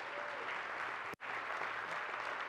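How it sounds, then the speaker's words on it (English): A church audience claps for Keith and Mert, a dense, steady round of applause filling the room with a brief sharp cut in the middle. "Let's just give it up for Keith and Mert one more time."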